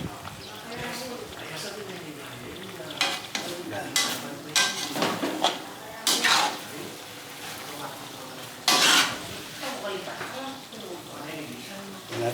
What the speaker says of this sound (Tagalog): Pero kailangan continuous ang ating halo